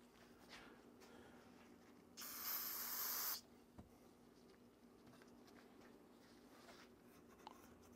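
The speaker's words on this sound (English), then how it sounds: "And then take our brake cleaner." Brake cleaner sprays from an aerosol can onto a Mercury 9.9 outboard motor part during a shift shaft install, a single loud hiss of about a second in an otherwise quiet workshop.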